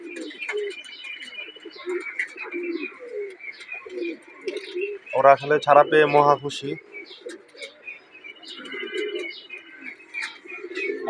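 Young pigeons newly let outside coo softly and chirp in short bursts, with one louder, denser run of calls midway, while someone talks nearby.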